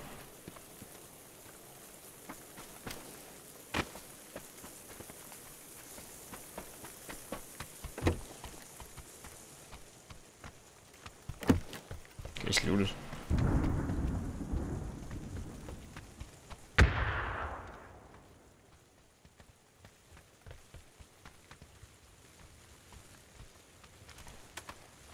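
Rain pours in the battle royale game PUBG, a dense steady hiss with scattered pattering drops, swelling louder in the middle with a burst of heavier noise before easing back to a softer patter.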